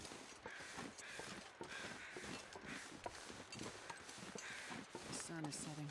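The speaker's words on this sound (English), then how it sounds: "Let's take in everything the high meadow has to offer, including the noisy crows." Crows caw in a high meadow in The Long Dark video game: quiet, scattered calls over a faint ambient background, with a voice talking alongside them.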